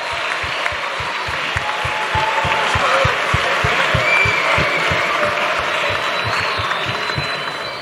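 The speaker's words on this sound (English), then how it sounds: "let's give them a massive round of applause" A large audience at a school talent show claps loudly and continuously, with a low rhythmic thumping, like stamping or a beat, pulsing beneath the applause throughout.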